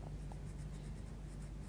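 Watercolour pencil shading over card, a faint, steady scratchy rasp of the pencil tip moving back and forth against a low background hum.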